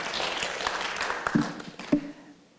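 Applause from an audience at a geriatrics gathering welcomes speaker Cheryl Batterman, a steady patter of clapping with a couple of sharper claps near the end.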